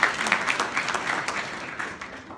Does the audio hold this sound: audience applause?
yes